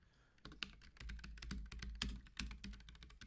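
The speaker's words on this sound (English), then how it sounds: "Just him sitting here and typing and just pumping out code on NeoVim is so relaxing to watch." Steady, rapid typing on a computer keyboard as code is written in the NeoVim editor, close crisp key clicks in irregular bursts with no talking.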